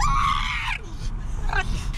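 A Staffordshire bull terrier lets out a loud, high-pitched scream-like shriek lasting under a second, followed by a short quieter yelp, close by with no talking.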